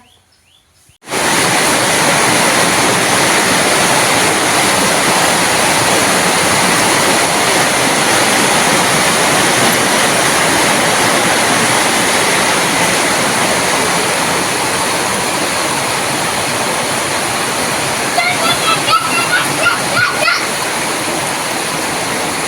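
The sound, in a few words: heavy rain drumming on metal roof sheet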